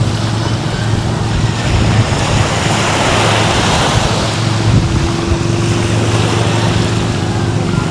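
Boat on the water as a passenger boards, a steady engine hum under rushing water and wind buffeting the microphone, with a few brief knocks.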